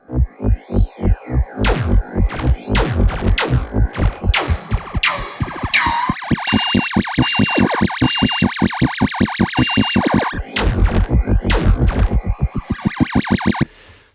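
A UFO preset from the SFX Pro 9000 synthesizer sound effects library: throbbing, pulsing synth bursts with warbling, sweeping tones and a rapid electronic stutter. It is loud and continuous, with no speech.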